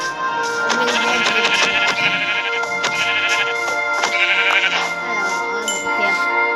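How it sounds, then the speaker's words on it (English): Sheep bleating in a video game, a few short bleats heard over continuous game music that runs throughout. "Oh, a sheep."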